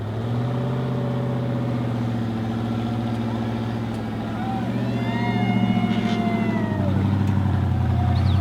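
An off-road truck engine revs and labours on wet rocks in the rain, a steady loud drone that climbs in pitch toward the end as the driver pushes hot tires up the climb.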